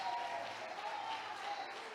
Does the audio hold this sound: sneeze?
no